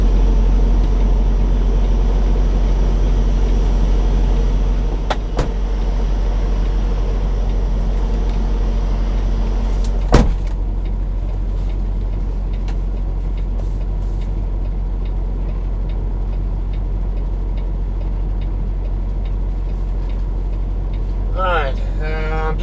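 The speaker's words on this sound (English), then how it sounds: "Just waiting on the reefer unit to finish its pre-trip bit checks and all that." A refrigerated trailer's reefer unit runs its pre-trip checks at a truck drop yard in Oklahoma City, giving a steady, loud mechanical drone with a sharp click partway through and a brief rising squeal near the end.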